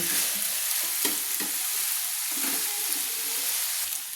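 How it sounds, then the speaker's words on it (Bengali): Potatoes frying in oil hiss with a loud, steady sizzle while a metal spatula scrapes through them in a few close, uneven strokes. "দেখুন খুন্তি দিয়ে ভালো করে আমি নেড়ে নিলাম"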